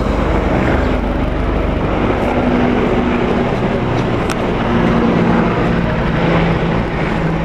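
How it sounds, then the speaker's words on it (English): Helicopters in the sky over Queens, a loud, continuous engine and rotor drone with a faint steady hum, unbroken throughout and without voices. "I'm getting bombed with helicopters here in Queens."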